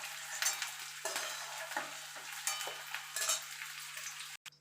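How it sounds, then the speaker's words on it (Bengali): Fried eggs lifted from hot oil in a pan, a steady sizzle with repeated light scraping and knocking of a spatula against the metal, close and without talk. "দেখুন বন্ধুরা ডিমটা ভাজা হয়ে গেছে। এবার ডিমটা আমি সব তুলে নেব।"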